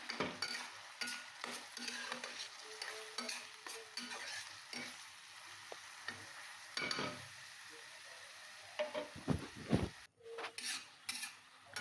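Masala is stirred into a pan over a soft sizzle, a spoon scraping and knocking against the metal in irregular strokes, quiet and close.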